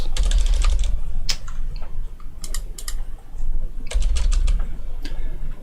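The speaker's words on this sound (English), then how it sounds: "Keyboard stopped working." Computer keyboard typing in bursts of rapid clicky keystrokes, with a pause mid-clip before another flurry, close and fairly loud over a low background hum.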